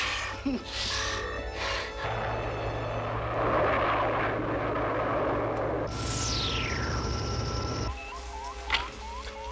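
Spaceship engines powering up in a science-fiction film, a loud rumbling drone that swells and roars, then a descending sweep and a shift to a lower hum with faint electronic chirps.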